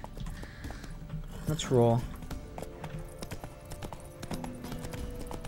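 Horse hooves clip-clop briefly in The Witcher 3 video game, a short burst of steps close by near the start while someone talks over steady background game ambience.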